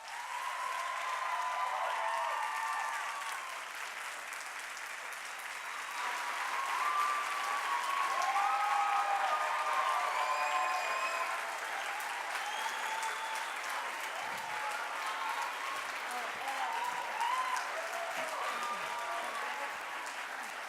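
Audience applause after a conference talk, sustained clapping from a large crowd lasting about twenty seconds, swelling midway and then holding steady, with some faint voices mixed in.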